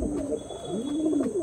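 Domestic pigeons of an old-generation breed coo close by, with several overlapping rolling, throaty coos repeating over a steady background hum.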